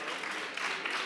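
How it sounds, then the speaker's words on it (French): A brief stretch of steady audience applause at the 2018 Mobility Awards ceremony, a dense, even patter of many hands clapping with no voices over it. "je pense qu'on peut applaudir"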